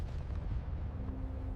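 A single brutal blast from an Ottoman bronze cannon, a heavy, sustained low rumble that fills the whole moment with deep, rolling power and no voices.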